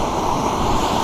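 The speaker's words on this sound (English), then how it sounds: "Waves are still crashing in." Ocean waves crash steadily onto a beach on a sunny day, a continuous close roar of surf with no break or voices.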